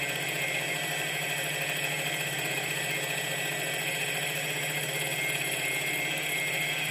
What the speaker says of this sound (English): in this case the motor is running at approximately